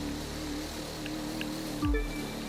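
Jet ski boat engine skimming over waves in The Crew 2 racing game, a steady motor drone with water wash, then a sudden louder surge and splash near the end.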